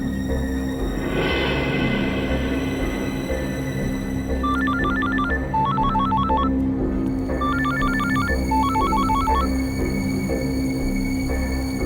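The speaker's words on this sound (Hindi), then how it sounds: "फोन क्यों नहीं उठा रहा है?" A telephone rings unanswered in repeated bursts of electronic trilling tones, several rings spaced apart over a low steady hum, moderately clear and with no one picking up.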